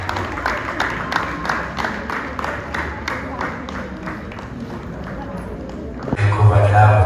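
Audience clapping at a speech during STA Week: steady rhythmic hand claps from a gathered crowd, continuous and moderately loud, ending in a louder rumble near the end.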